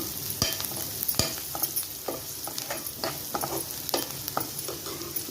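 A spoon stirs chili powder and turmeric into a sizzling mixture in a pan, close scraping strokes repeating irregularly over a steady soft frying hiss.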